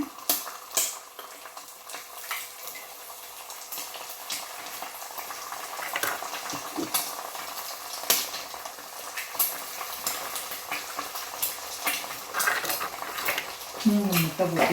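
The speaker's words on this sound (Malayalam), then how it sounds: "മുട്ട ഒന്ന് പൊട്ടിച്ച് ഒഴിക്കട്ടെ ഇതിനകത്തേക്ക്" Eggs cracked into a hot pan with chopped beans and carrots for egg fried rice give a steady, moderate sizzle with occasional stirring clatter and utensil clicks throughout.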